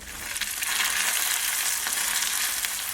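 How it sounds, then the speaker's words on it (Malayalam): Cashew nuts and raisins frying in ghee for a Tamil Nadu sweet pongal payasam: a bright, steady crackling sizzle heard up close, with faint stirring ticks and no voices. "അടുത്തത് നമുക്ക് ഇതിൽ കാഷ്നട്ടും റൈസിൻസും ഫ്രൈ ചെയ്തിട്ട് ചേർത്ത് കൊടുക്കണം."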